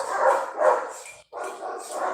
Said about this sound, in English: What the hell is wrong with those damn dogs? Like, it's making a whole set of fucking noise.